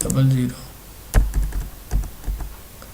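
Computer keys are tapped in short uneven bursts while a code is entered at a store's point-of-sale billing software, with clicks close and distinct after a brief stretch of talk at the start.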